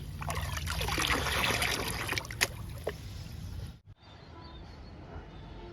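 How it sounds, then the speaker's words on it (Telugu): Liquid fertiliser poured onto vegetable plants such as brinjal and tomato, a soft trickling pour that runs steadily, then cuts off abruptly and leaves a quiet outdoor hush with faint rustles. "ఈ లిక్విడ్ని అన్ని రకాల మొక్కలకి ఇవ్వచ్చు ఇచ్చేద్దాము కూరగాయ మొక్కలకి"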